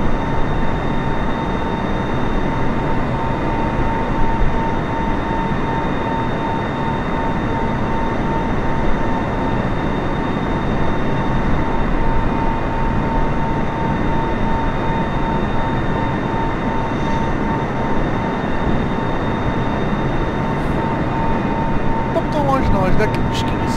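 Steady broadband roar of an aircraft cruising at altitude through a storm over open sea in Microsoft Flight Simulator, a constant engine and wind drone with tonal hums, continuous and loud throughout.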